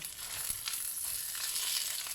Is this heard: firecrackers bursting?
no